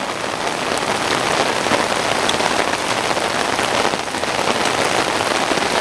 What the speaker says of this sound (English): don't make a video in the rain.